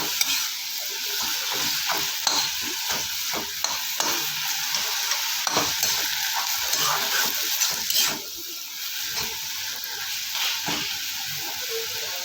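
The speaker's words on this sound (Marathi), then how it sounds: "मस्त असं खालीवर असं परतून घ्यायचं मेथीच्या भाजीला" Fenugreek leaves (methi bhaji) are stir-fried in a ladle of oil in a pan, giving a continuous close sizzle with repeated spatula scrapes and taps.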